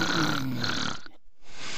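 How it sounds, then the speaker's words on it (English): Snoring right up against a microphone: one long raspy droning breath that cuts off into brief silence, then resumes faintly. "Can you not fucking snore into the microphone?"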